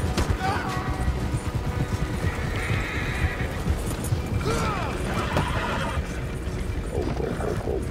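A horse in Red Dead Redemption 2 whinnies over steady clip-clopping hooves, with mechanical game-like ambience and a faint voice in the background.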